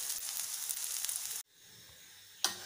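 Grain adai, a lentil pancake, sizzles on a pan after flipping: a steady close frying hiss that drops out abruptly partway, then softer sizzling returns with a sharp burst near the end.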